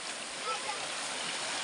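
Water rushes steadily at a dam in Donsol, Sorsogon, a dense even wash of flow like a stream, continuous and moderately close, with no clear talk over it.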